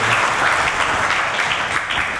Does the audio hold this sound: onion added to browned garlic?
no